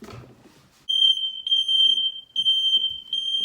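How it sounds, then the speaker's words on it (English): A smoke alarm set off by baking sounds in four long, piercing, high-pitched beeps with short gaps, loud and close, after a brief faint clatter at the start. "Every time I try to cook something, the fire alarm goes off"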